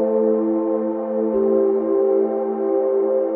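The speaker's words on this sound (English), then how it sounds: "We've got this synthesizer sound here, a nice long pad sound" A long synthesizer pad holds a steady, smooth chord that sustains evenly throughout, with a brief low rumble partway in and nothing else over it.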